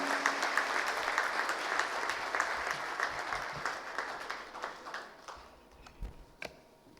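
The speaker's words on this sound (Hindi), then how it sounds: "जोरदार तालियां हो जाए।" An audience applauds at the inaugural session of a Rajasthan business event, steady clapping from a large crowd that thins out and fades into a few scattered claps.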